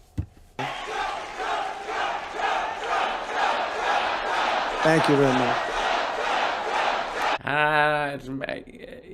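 A crowd at a speech cheers and shouts loudly and continuously, followed by a brief spoken phrase and a short strained vocal sound near the end.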